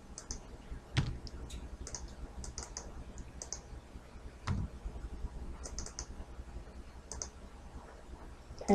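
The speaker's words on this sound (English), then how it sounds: "click on the little picture icon." Scattered light mouse clicks at a computer running Microsoft Outlook, sparse and quiet single clicks spread over several seconds against faint room noise.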